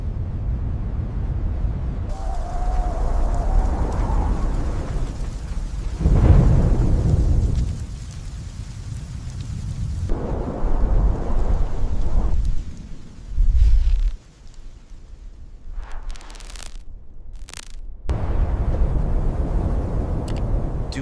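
Rain hisses steadily while low rumbles of thunder roll in and fade, with a few sharp crackling bursts and brief quieter gaps between.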